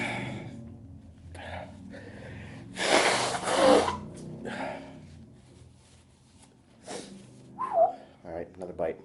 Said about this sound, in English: I gotta blow my nose again already.